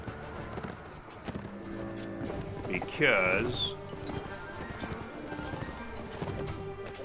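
Horse hooves clip-clop in a steady rhythm while riding in the video game Mount & Blade: Warband during the siege of Praven, under ongoing talk and mixed with a brief whinny-like cry and battle noise.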